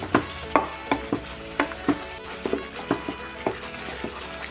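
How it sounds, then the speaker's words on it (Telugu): Ground batter fries in a pan of oil while being stirred, with a steady sizzle under about a dozen sharp, evenly spaced scrapes and knocks of the spoon against the pan. "మిక్సీలో పట్టుకున్న బ్యాటర్ మొత్తము ఇందులో వేసి బాగా ఫ్రై చేసుకోవాలి"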